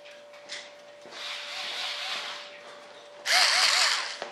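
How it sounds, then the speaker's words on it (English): A small cordless screw gun drives screws into pre-drilled layers of fiberglass and foam on a radio-controlled B-1 Bomber jet model, giving two short whirring bursts close by with quiet pauses between them. "I was looking for my little screw gun."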